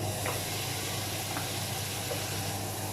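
Butter melting in a pot over medium-low heat gives off a steady, soft sizzling hiss, continuous and fairly close, with no talking.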